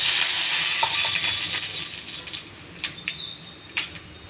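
A pan of oil for beetroot fry sizzles steadily with a hissing, crackling tone that fades, followed by a few sharp pops and clinks near the end.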